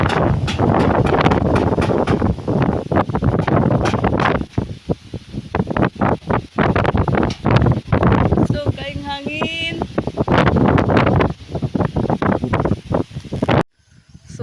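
Heavy wind on a house roof in the Philippine countryside roars and buffets the microphone almost continuously, with rustling and a few brief lulls, while a voice speaks briefly in the middle.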